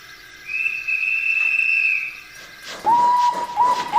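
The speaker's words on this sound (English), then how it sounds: "waited for the guard to blow his whistle" A railway guard's whistle at a British station sounds one long, steady, shrill blast, followed by shorter, lower whistle tones over a background rumble.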